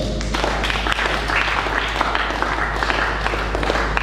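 A congregation at a church conference applauding, dense steady clapping from many hands filling the room, loud and continuous with some voices underneath.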